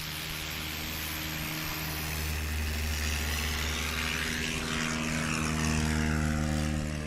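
A Super Cruiser light propeller airplane drones steadily through the whole stretch during STOL competition practice in Oregon. The engine hum stays loud and constant, swelling slightly as it passes, with no voices.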